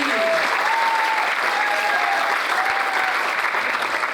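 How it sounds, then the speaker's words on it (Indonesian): An audience applauds at a school arts performance (pentas seni), a loud, dense and steady wash of clapping that holds evenly throughout with no talk over it. "Beri tepuk tangan yang meriah sekali lagi."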